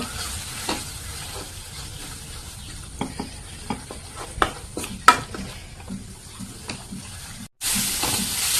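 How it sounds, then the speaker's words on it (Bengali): Dry-roasted, ground spices fry in hot oil in a pan for a kochur loti curry: a steady soft sizzle broken by sharp scraping clicks of a spatula stirring, with a brief gap near the end before the hiss resumes louder. "তেলটা দিয়ে মশলাটা ভালোভাবে ভেজে নেব"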